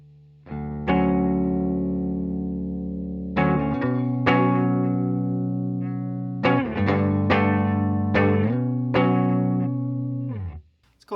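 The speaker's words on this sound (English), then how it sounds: "Let's go ahead and run through our tones of our signature Dave Grohl guitar here." A 2014 Gibson Dave Grohl signature electric guitar rings through an amplifier in sustained, distorted chords, struck in a series of strong strums that each ring out before the next.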